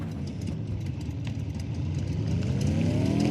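Simulated car engine sound built in Unity with a rev limiter, giving a steady synthetic drone whose pitch creeps upward toward the end, continuous and fairly loud with no talking.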